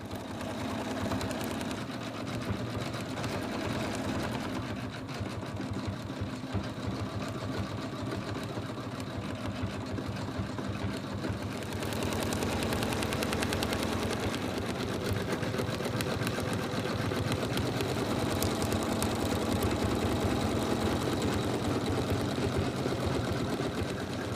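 An embroidery machine stitches the black pupils of an in-the-hoop tortoise design, a steady continuous mechanical whirr with a rapid needle rhythm that runs throughout and grows slightly louder partway through.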